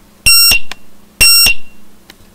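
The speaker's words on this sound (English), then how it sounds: "It makes two loud beeps" A Garmin StreetPilot GPS being switched off emits two loud, sustained electronic beeps about a second apart, each followed by a brief faint click, with no speech.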